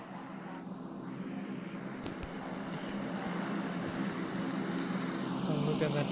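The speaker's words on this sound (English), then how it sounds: "Oh, look at that plane." Airplane flying overhead in PUBG Mobile, a steady broad engine drone that swells slightly louder over several seconds, continuous and fairly prominent.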